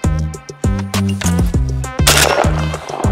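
Gunfire at an indoor shooting range in Belarus: a rapid run of sharp, loud shots in close succession, some overlapping, with one heavier blast near the end and no voices.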